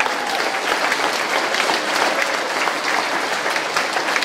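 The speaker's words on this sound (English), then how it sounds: "give the AR winners one more round of applause" A crowd at a primary school awards ceremony claps steadily and loudly for the full length, a dense, even wash of applause with no voices standing out.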